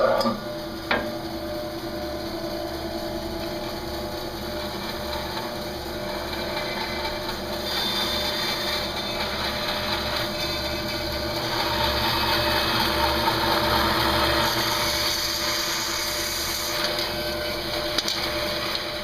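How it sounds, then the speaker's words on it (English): A bandsaw cuts a face off a wooden hexagonal table leg, a steady mechanical drone with a low pulsing hum that grows louder as the blade bites into the wood, running continuously without pause. "So now it's back to the bandsaw and cut that off."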